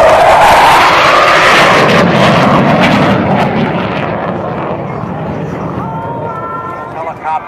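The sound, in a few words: F-4 Phantom jet pulling hard at air show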